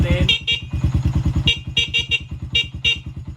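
Stock horn on a TMX 125 motorcycle honking in short repeated bursts over the loud, steady idle of the nearby single-cylinder engine, no voices.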